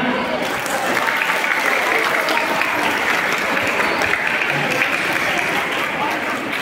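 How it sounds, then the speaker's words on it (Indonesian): An audience at a Teacher's Day gathering in a modern Islamic boarding school bursts into sustained applause, a thick, even roar of clapping that holds steady throughout. "Tepuk tangan"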